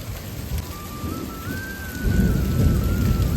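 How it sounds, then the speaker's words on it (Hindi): Steady heavy rain pours down in Uttarakhand, growing louder and denser after a couple of seconds, with a faint rising whistle-like tone drifting through it. "हमारे उत्तराखंड में तो देखो कितनी बारिश हो रही है"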